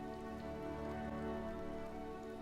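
Rain falls steadily in the video game My Time at Sandrock, a soft constant patter over a layered backdrop of sustained game music tones, with no speech.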